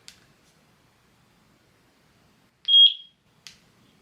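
A single sync beep from a eufyCam S3 Pro security camera, held as a clear steady tone for about a third of a second, with soft clicks just before and after it in a quiet room.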